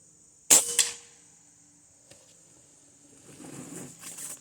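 A single sharp air rifle shot cracks near the mic with a quick follow-up clack, then quiet, a faint tick and soft rustling.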